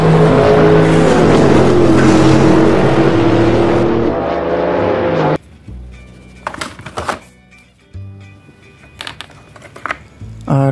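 A loud, sustained racing engine roars for several seconds, then cuts off, followed by scattered thumps and short mechanical bursts.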